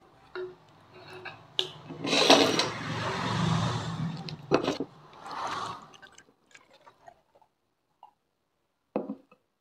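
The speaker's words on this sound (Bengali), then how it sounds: "সো এখানে আমরা বোটলের ভিতরে আমাদের লেমন ওয়াটারটা নিয়ে নিয়েছি" Lemon water poured into a bottle, a gurgling, splashing pour over a few seconds followed by scattered small drips, knocks and handling sounds that fade to near silence.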